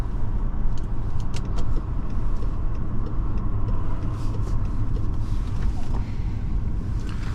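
A 2010 BMW 535i xDrive on the move, heard from inside the cabin as a steady low engine and road rumble with some wind noise. The sound holds at an even level throughout.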